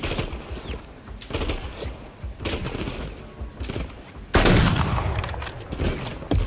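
Rapid gunfire in the video game Call of Duty Modern Warfare 3 on PS5, loud bursts of automatic shots in several volleys with a heavier blast near the end, dense and close.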